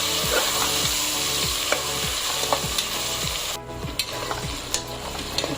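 Chopped onion and tomato being sautéed in a pan for a traditional mixed vegetable bhaji, steady loud sizzling with a spatula scraping in regular strokes roughly every half second.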